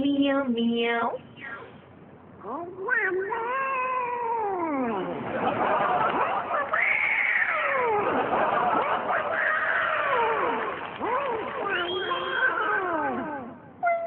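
A human voice imitates a cat giving birth, drawn-out wailing meows and caterwauls rising and falling in long strained cries, loud and close, continuous for the whole stretch.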